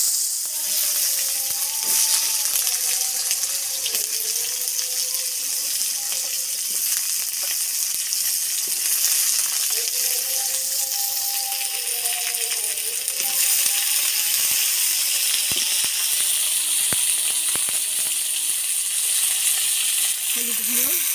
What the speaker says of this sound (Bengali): আমি এখানে সর্ষের তেল, আলুটা আমি লাল লাল করে ভেজে নেব ভালো করে